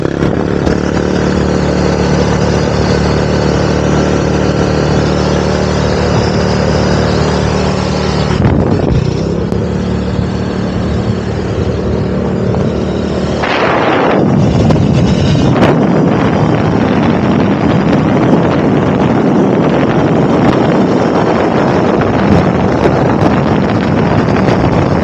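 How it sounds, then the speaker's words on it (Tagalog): A Yamaha Mio i 125 moped on a test drive gives a steady engine drone under heavy, continuous wind buffeting against the microphone, with a brief shift in tone partway through. "Enjoy muna natin yung moped na to para ma-test drive, maikot kung wala nang problema sa makina."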